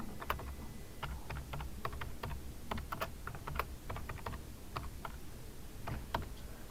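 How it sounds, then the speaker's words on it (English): Typing on a computer keyboard, a quick irregular run of close, crisp key clicks over a low steady background hum, with no voices. "we'll type that in there"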